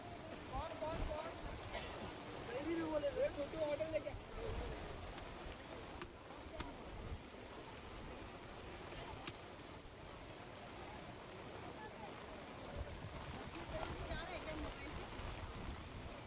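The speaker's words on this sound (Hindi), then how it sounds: "ठंडी ठंडी हवाएं और तेज़ बारिश" Heavy monsoon rain at Lonavala falling steadily in cool wind, a continuous broadband hiss with wind buffeting the microphone, and faint voices and ambient chatter in the background.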